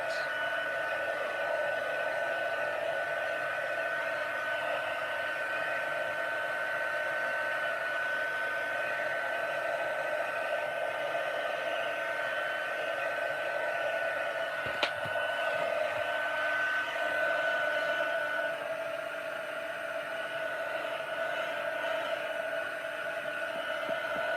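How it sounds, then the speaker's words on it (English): A heat gun drying stamped ink on paper before embossing, one continuous steady blowing whoosh with a faint high whine, close and unbroken for the whole stretch, with no talking. "I'm just going to give this a wee blast with a heat gun just to make sure it's not too wet"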